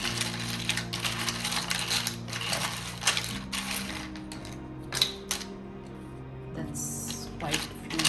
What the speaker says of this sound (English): So let me shuffle these words really well.